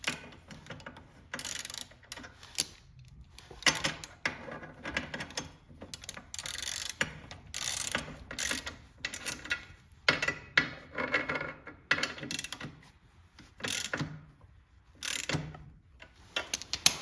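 A hand ratchet tightens bolts on angle iron during a metal fabrication build, giving rapid, uneven clicking bursts with short pauses, close by in a quiet workshop.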